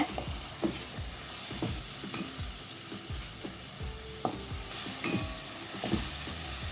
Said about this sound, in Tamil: இப்போ இதையும் சேர்த்து நல்லா வதக்கிக்கோங்க